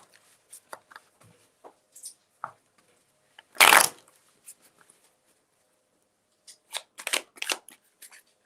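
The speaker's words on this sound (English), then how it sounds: "do a hard shuffle here" A deck of cards is shuffled hard in short, scattered riffles and snaps, with one louder burst of ruffling cards in a quiet room.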